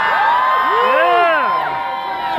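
A big live concert crowd in Lancaster, Pennsylvania cheers and whoops loudly and steadily, with high whistles and shouting voices swooping over a dense wall of noise.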